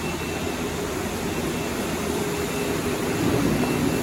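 An automatic electrolytic copper plating machine for PCBs runs in auto mode, giving a steady, even mechanical whoosh and hum that stays nearly constant throughout and grows slightly louder toward the end, with no talking.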